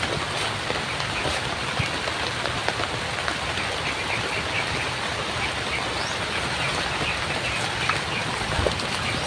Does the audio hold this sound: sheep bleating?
no